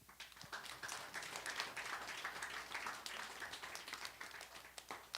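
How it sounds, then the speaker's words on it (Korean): A church congregation applauds during a sermon, a brief burst of dense, roomy clapping from many hands that stays steady for several seconds before tapering. "박수 한번 해주세요."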